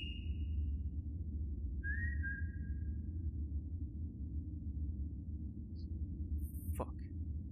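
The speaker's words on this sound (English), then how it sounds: "I did not like that whistle." In the VRChat horror game The Smile Room, a couple of short, clear whistled tones ring out over a constant low rumbling ambience, followed by a faint scraping rustle.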